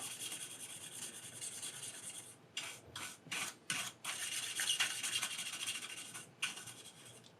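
A black cassette case is rubbed with a cloth to clean it. The dry, close scrubbing comes in short strokes, then a longer stretch of steady rubbing, all quiet and with no talking.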